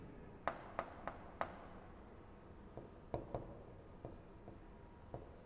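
Chalk or a marker taps and scratches on a board during a maths lecture on abstract algebra, giving a string of quiet, sharp clicks at an irregular pace. The room is otherwise hushed.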